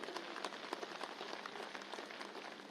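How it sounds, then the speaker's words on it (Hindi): Crowd applause at a BJP felicitation rally in Shimla welcoming national president JP Nadda: a faint, distant, steady wash of many hands clapping, with scattered sharper claps, continuing throughout. "हम एक बार जोरदार तालियां बजा करके उनका अभिनंदन करें"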